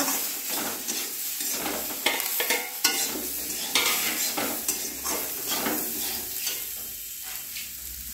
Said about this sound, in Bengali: আদা কাঁচা লঙ্কা বাটা অল্প আছে, এই একটু দিয়ে মিক্স করছি